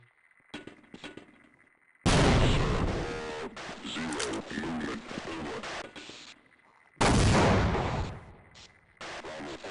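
A grenade explodes in Half-Life, sounding as two heavy, loud blasts with rumbling tails, each breaking up quieter game sounds and short tones.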